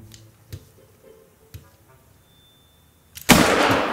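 An accidental rifle shot in a hunting video game: a few faint clicks, then one sudden loud blast with a noisy, sustained tail near the end.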